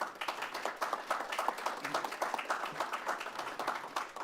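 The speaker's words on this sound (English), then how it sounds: "Trying to remember the last time our words of inspiration got applause like that." Audience members at a city council meeting applaud, with steady, dense clapping throughout, moderately distant and filling the chamber.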